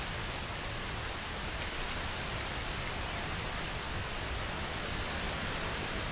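Steady rain pours down in the wild near a fallen honeybee nest, a dense even hiss that stays constant throughout with no voices.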